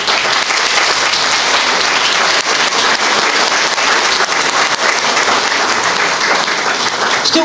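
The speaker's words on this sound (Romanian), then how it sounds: "îi aplaudăm cu toată dragostea" Audience at a village award ceremony in Căpâlna gives loud, steady applause lasting the whole stretch, dense clapping with no break and no talk over it.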